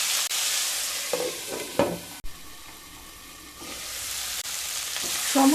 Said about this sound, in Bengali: মিশিয়ে নিয়ে মিডিয়াম টু লো স্টিমে সবজিগুলোকে হালকা ভেজে নেব।